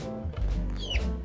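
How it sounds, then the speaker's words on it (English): Baby chickens give a short burst of soft clucks and a high peeping chirp, close by and with no voices around them. "We're raising baby chickens."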